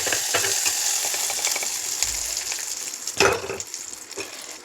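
Curry leaves dropped into hot oil for a chutney tempering, a close, continuous frying crackle that flares into a sharp burst of spitting near the end.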